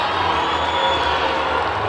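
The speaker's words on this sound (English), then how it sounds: "He is getting some right jeers from the Stars crowd." Ice hockey crowd at a Billingham Stars game, a steady broad roar of many voices with jeering mixed in, moderately loud and sustained with no clear peaks.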